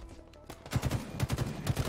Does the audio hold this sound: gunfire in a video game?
yes